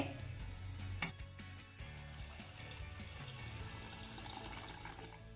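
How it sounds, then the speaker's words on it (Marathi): Hot water pours from a glass into thick mashed dal, a soft steady splashing stream after a sharp knock, quiet and close with no talking. "यामध्ये मी एक ते दीड ग्लास गरम पाणी घालतीये"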